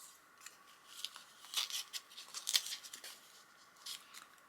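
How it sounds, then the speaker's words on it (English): A small piece of fragile, misted paper being torn off by hand, several short soft rips and crinkles close by in a quiet room. "I might just tear a little bit of that off."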